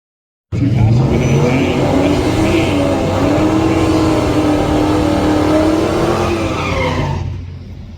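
A Ford drag car launching down a home quarter-mile track, its engine roaring loud and sustained as it accelerates hard with a rising pitch and the back tires stepping out, then fading away, with no voices over it.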